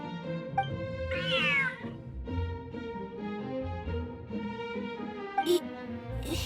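A cat in the video game Genshin Impact gives a clear, drawn-out meow over soft background music, with a brief second cry near the end.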